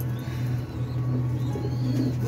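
Pigeon cooing from a Lambrech pigeon, a father bird kept in a loft with young birds, with soft low coos repeating steadily over a constant low hum, close by and with no talking.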